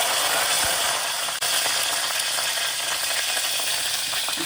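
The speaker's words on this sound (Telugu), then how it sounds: "కరివేపాకు వేసి చక్కగా కలుపుతాను" Curry leaves, cumin, chana dal and urad dal fry in hot oil, a dense, loud, steady sizzle and crackle heard close up, with faint scraping of a stirring spoon and no talking.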